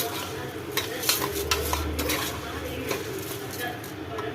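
Washed green gram is sautéed in a pan with onions, a soft sizzle under repeated scraping and clinking of a spoon against the pan, while background voices and a faint bird chirp carry on.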